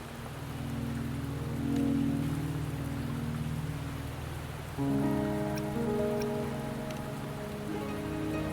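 Steady rain falls in the video game Wuthering Waves, a dense continuous patter under a low tonal music bed that shifts midway, with no talk over it.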